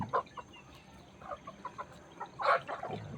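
Several gamecocks cluck in short, scattered bursts while being fed in the morning, close and fairly quiet, with one louder squawking flurry midway.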